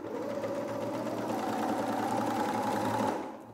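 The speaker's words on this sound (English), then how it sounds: "And I'll go all the way down to the end, backstitch at the end" A sewing machine runs steadily, stitching a fabric edge along a plastic cover for a homemade sound-absorbing blanket, its even motor hum lasting about three seconds before easing off; no one speaks.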